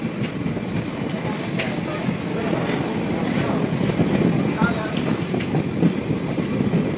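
A passenger train pulls out of Amguri Junction railway station in the evening, bound for Mariani Junction, giving a steady, loud low rumble of rolling wagons with faint clicks, while a voice talks over it.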